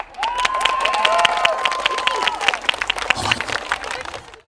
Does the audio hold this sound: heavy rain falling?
no